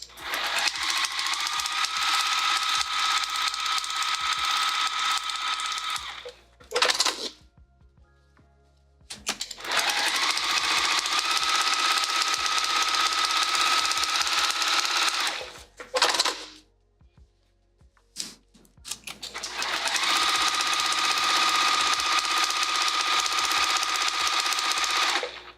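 A sewing machine stitches quilting on a fabric pouch in three long, loud, steady runs of rapid mechanical whirring, broken by short quiet pauses and a few clicks.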